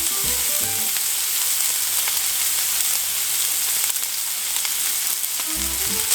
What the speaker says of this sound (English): You hear that sizzle? That is what you want to hear.